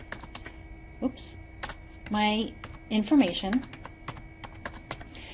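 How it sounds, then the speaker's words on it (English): Keyboard clicks while entering a number into business software, a scattering of light taps with a few firmer keystrokes, mixed with brief bursts of nearby speech. "I'm just using my keyboard here. So I'm typing in the number and I'm hitting the enter button"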